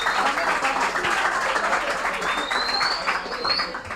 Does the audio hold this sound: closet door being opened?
no